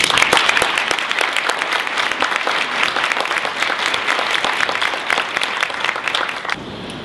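Conference audience at a Building Healthy Chicago event applauding to welcome Commissioner Mason, a dense burst of many hands clapping that holds steady for several seconds, then thins and fades.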